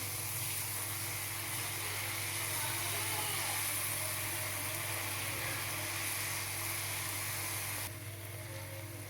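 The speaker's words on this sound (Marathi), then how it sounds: "गॅस मात्र बारीकच ठेवून आपल्याला ही जिलेबी तळून घ्यायची" Jalebi batter frying in hot oil over a low flame, a steady, dense sizzle and hiss lasting throughout, close and even with no break.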